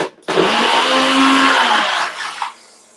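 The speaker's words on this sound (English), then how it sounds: "just return it to the blender." A kitchen blender whirs loud and close for about two seconds while blending a chunky basil and lemon sauce, then spins down and stops.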